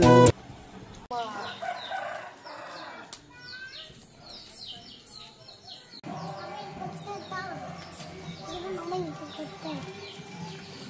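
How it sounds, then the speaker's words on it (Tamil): Chickens cluck and squawk close by in a busy farmyard, with a rooster crowing and wings briefly flapping amid continuous bird chatter. "கோழி கொத்துதுமா."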